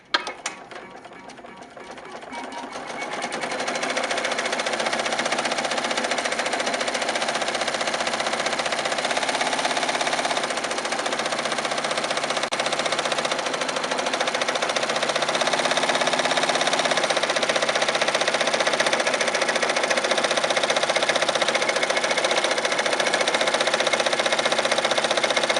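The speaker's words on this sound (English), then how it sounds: "the machine moves right back, moves the garment right back underneath the needles, and it lines up perfectly to do the last tack down stitch" A HAPPY commercial embroidery machine stitching an appliqué onto a garment, with a rapid, continuous mechanical chatter of needles that settles into a steady loud drone after a brief startup, close and without speech.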